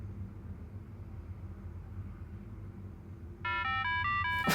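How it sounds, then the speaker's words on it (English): A phone ringtone set specially for a recruiter starts up near the end: a bright, stepped electronic melody that rises loudly over a low steady background hum. "I need to Set a special ringtone for the recruiter."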